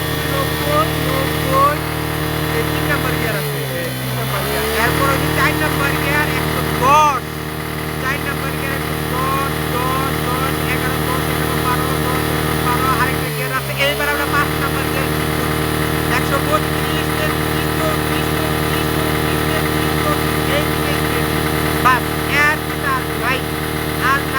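Motorcycle engine, a Suzuki Gixxer or Bajaj Pulsar, running steadily in gear during a top-speed test, with a continuous hum and two brief deeper surges as it shifts up, while people talk over it.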